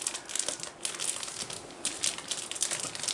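Foil wrapping of a Match Attax football card starter pack is torn and crinkled open by hand, giving close, bursty crackling and rustling with brief pauses, no voice.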